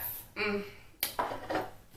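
Metal pots and pans clink and clatter as they're handled, several light knocks close by, with a voice speaking over them.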